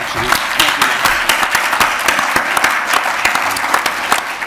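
A full audience applauds at a digital media and culture conference, steady dense clapping with sharp individual claps standing out, loud and continuous throughout.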